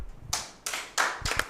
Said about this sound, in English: Please, another round of applause for our